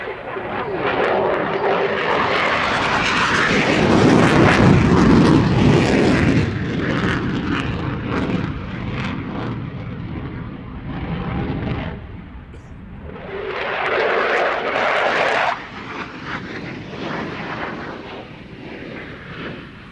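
A Belgian F-16 fighter jet flies a display demonstration under a low cloud ceiling, its loud, broadband jet roar swelling and fading as it passes, with a second surge later on.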